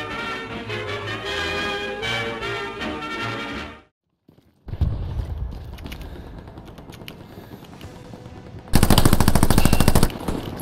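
Tommy gun firing automatically at about 1,500 rounds a minute, a loud rapid burst near the end after a stretch of music and a brief silence.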